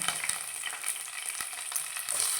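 Green chilies and tomato frying in a pan for chicken sukka, a close, continuous hissing sizzle with a few soft stirring knocks, no voices.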